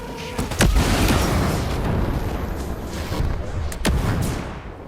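Explosions in the Ghost Recon Breakpoint video game on PS5: two sharp, loud blasts stand out over a dense, continuous rumble of combat noise.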